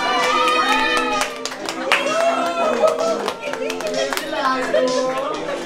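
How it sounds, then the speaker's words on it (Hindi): Light scattered hand claps from a small group at a birthday celebration, mixed with singing voices and chatter nearby. "सभी लोग देखो बेचारे सूखी तालियां बजा रहे हैं"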